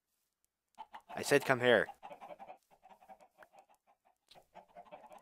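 Minecraft chickens cluck in a run of soft, repeated clucks after someone speaks loudly over the game; the clucking goes on in short bursts to the end.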